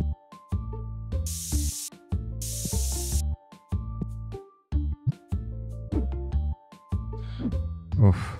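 Aerosol spray can hissing in TCG Card Shop Simulator, two bursts of about a second each over a bright game music loop, fairly loud against the backing track.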